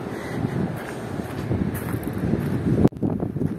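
Wind buffets the microphone outdoors at the ancient site of Byblos in Lebanon, a steady broadband rumble and roar that fills the whole stretch, with a brief sharp dropout near the end.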